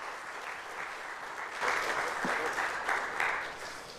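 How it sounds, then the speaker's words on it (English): Audience applause for a speaker at a customer-service and chatbot industry event, a steady wash of clapping that grows louder halfway through and holds, fairly close and without talk over it. "A round of applause for Eugene, please"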